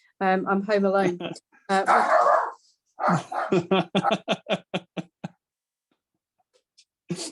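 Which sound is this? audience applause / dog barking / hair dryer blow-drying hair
dog barking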